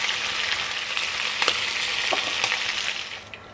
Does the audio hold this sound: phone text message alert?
no